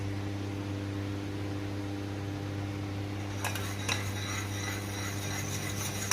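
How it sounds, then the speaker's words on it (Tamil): Butter melting into homemade curry-leaf ghee in a pan on the stove is stirred with a spoon, giving faint, sparse scrapes and clinks in the second half over a steady low kitchen hum. "அடி பிடிக்காமல் தீயாமல் நம்ம கிளறணும்"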